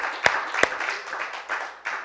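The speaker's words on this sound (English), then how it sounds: "Give the Lord a hand clap." A church congregation claps during a Wednesday service, with two sharp, close claps up front followed by a softer, diffuse patter of hands.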